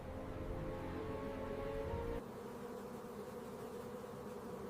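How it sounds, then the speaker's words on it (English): A dense, steady buzz of many honeybees fanning their wings inside a hive, a continuous humming drone that drops slightly in loudness partway through. "By moving their wings, they create air currents through the colony."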